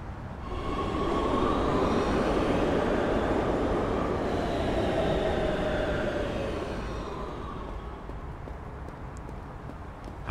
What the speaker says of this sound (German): Mit der Metro zurück nach Hause.